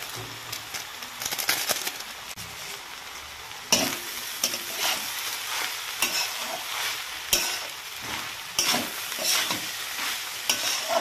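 Leftover rice fries in a pan with a continuous sizzle, broken by repeated scraping stirs and spatula knocks at an uneven rhythm, close and moderately loud throughout.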